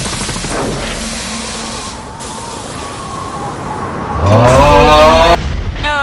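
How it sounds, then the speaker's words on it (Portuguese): Cartoon car engine from Regular Show, a loud revving and sputtering with a rising whine and squeal-like tones near the end, over a busy mix of other effects and music. "Isso foi o motor."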